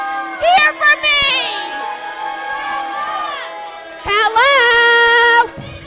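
Crowd at a wrestling event cheering and shouting loudly in two swells, with high children's shouts and whoops mixed into the noise.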